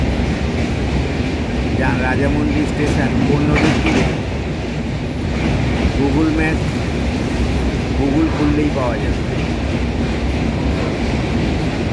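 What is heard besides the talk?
train crossing a long railway bridge over Godavari river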